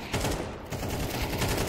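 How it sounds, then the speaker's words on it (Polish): Gunfire in Counter-Strike during a Blast Premier final match between Spirit and Navi, with a loud, dense burst of shots cracking continuously and echoing throughout. "I dopiero wtedy odpalił strzał."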